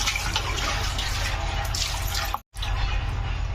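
Water splashes steadily while pomfret fish are rinsed clean, a continuous close pour with a brief break near the end before the flow resumes.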